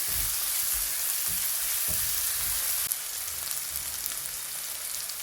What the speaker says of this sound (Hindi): इसके साथ मैं 1 टेबल स्पून मैं जिंजर गार्लिक ऐड करूँगी और इसको फ्राई करेंगे।